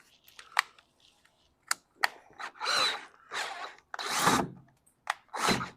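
A power drill with a very sharp bit bores through metal while fabricating replacement window parts for an antique car, several close, loud whirring bursts of varying length separated by pauses and small clicks.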